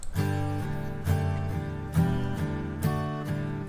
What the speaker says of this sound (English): And this is the guitar which is panned to the left